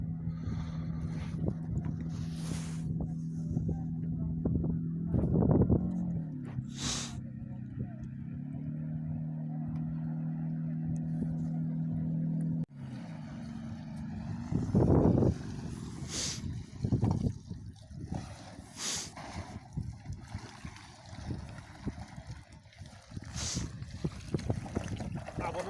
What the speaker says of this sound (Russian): Что-то маловат мотор.